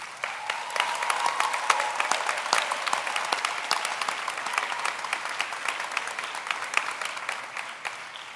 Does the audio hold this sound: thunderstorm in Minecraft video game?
no